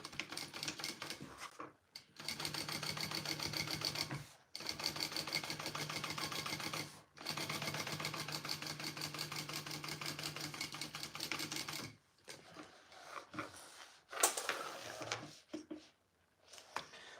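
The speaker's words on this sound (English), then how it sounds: "All right, and then top stitch." A sewing machine top stitching a bag runs in several long bursts of rapid, steady mechanical stitching, close and fairly loud, broken by short pauses and lighter handling clicks toward the end.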